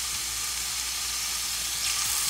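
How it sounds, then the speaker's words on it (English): Hot oil hisses and crackles steadily in a pan while pepper steak cooks, a constant near sizzle with occasional small pops and no voices. "You hear that sound, that sizzle?"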